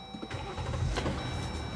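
A Jeep Gladiator EcoDiesel pickup starting up from inside the cab, a brief starter crank rising into the diesel catching and settling to a steady low rumble, close and continuous.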